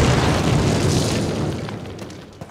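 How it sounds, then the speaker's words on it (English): In Call of Duty on PC, explosives blow up a cinder block wall in one loud, close blast that fills the clip, then tails off into a rumbling decay with scattered debris clatter. "Place your explosives on the cinder block wall."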